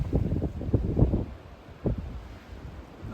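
Gusty wind buffets the microphone on a mountain ridge along the Appalachian Trail, with loud, uneven low rumbling bursts that swell and fade.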